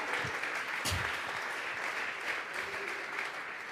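A congregation at a Sunday church service claps in sustained applause, a dense wash of hand claps filling the room, with one or two heavier thumps near the start.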